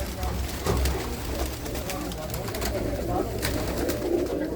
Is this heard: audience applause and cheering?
no